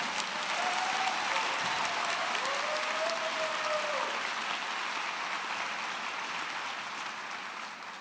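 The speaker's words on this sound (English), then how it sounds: "Yes, we can clap." A crowd at a university commencement ceremony claps steadily and evenly, then slowly fades. The applause sounds fairly faint, as if heard from a distance in a large hall.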